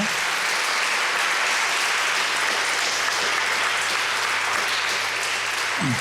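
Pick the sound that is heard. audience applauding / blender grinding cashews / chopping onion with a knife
audience applauding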